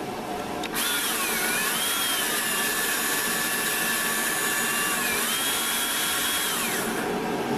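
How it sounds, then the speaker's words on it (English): A power drill bores through a car's front grill during a rally light install, a loud steady whine starting after a short lead-in and holding at high speed with a few pitch dips before stopping abruptly near the end. "we're gonna drill through it now."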